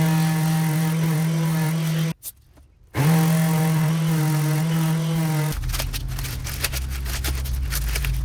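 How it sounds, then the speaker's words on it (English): An orbital sander with 80 grit sandpaper works on plexiglass with a steady, loud whirring hum. It cuts out briefly, restarts, and then turns harsher and rougher as it grinds the sheet. "I'll do this by using 80 grit sandpaper on an orbital sander"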